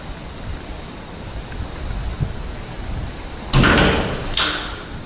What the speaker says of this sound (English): So can you close that door?